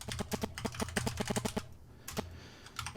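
Rapid clattering keystrokes from a mechanical keyboard with Cherry MX Brown switches, a dense run of close clicks that pauses briefly and then resumes with a few more presses.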